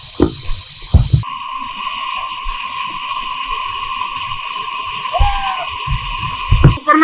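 Stream water from a waterfall pours steadily into a small stone-dammed village pond in Taobat, Neelum Valley, Azad Kashmir, a continuous close rush with brief rustles and knocks around it.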